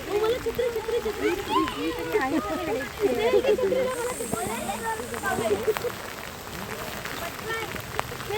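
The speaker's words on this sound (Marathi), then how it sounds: "ते जोरात पाऊस पडायला लागलाय, त्यामुळे मी रेनकोट घातलंय." Heavy monsoon rain falls in the fog-covered Sahyadri mountains near the Kundalika valley, a steady dense hiss that runs throughout beneath someone talking.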